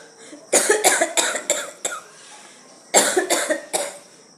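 Two bursts of harsh coughing from a winter cold, a run of about six coughs, a short pause, then another run of four, close and loud.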